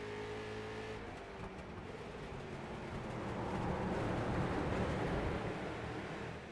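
Race cars in a heat race on the Bull Ring short track roar together as the pack gets going, a dense engine drone that swells louder midway and stays sustained, heard from a moderate distance.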